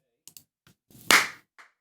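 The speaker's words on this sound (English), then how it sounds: "So if I clap my hands, you should notice all my drum tracks just came alive" A single sharp, loud hand clap in a recording studio, preceded by a few faint taps and soft noises.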